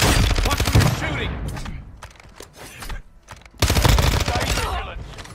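Rapid automatic gunfire from the mobile game Call of Duty Warzone Mobile rattles in two loud close bursts, with quieter single shots and clatter between them and a voice speaking.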